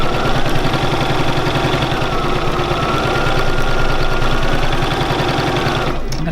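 A Bernina 475QE sewing machine doing free machine embroidery in zigzag stitch, a loud, close, rapid rhythmic whirring and needle clatter running continuously, then cutting off just before the end.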